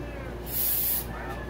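Brake cleaner sprays onto a YZ125 motorcycle surface in one short, loud hiss over a steady background rumble.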